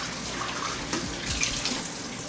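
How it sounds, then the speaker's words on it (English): Tap water runs steadily into a kitchen sink as a bowl is rinsed out, a continuous close splashing wash with faint clinks and no talking. "I'm gonna rinse this bowl out."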